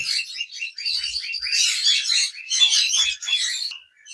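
Pairs of pet birds about eleven to twelve months old at a breeding farm twitter and chirp close up in dense, overlapping bursts that run almost continuously, with only brief gaps and no voices.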